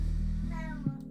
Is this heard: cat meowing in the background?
yes